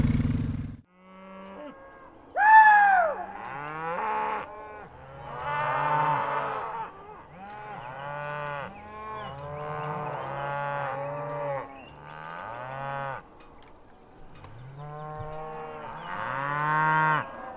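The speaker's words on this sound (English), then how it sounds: "There's a bunch of cattle up here at the gate, ready for me to open the gate" A herd of cattle waiting at a farm gate moos repeatedly, with long, loud, drawn-out calls from several animals overlapping and following one another near at hand.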